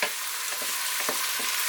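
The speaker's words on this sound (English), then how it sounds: "So what we like to do is fry down our onions first," Onions fry for a chicken curry, hissing in hot oil with a steady bright sizzle while a utensil scrapes and stirs them in the pan in soft irregular strokes.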